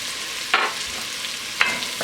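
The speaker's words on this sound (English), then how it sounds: "I'm going to scrape up some of the goodness in there too that we got on the bottom of the pan" Two short scrapes of a utensil across a pan bottom, about a second apart, over a soft steady sizzle as onions, carrots and celery cook with leftover meat bits, flour, salt and pepper.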